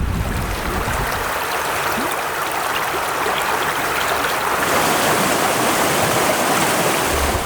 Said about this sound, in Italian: si è costantemente accompagnati, abbracciati dal gorgogliare dell'acqua del ruscello